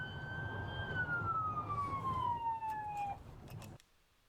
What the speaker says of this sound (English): We see this trooper pass an ambulance stuck in traffic en route to the scene.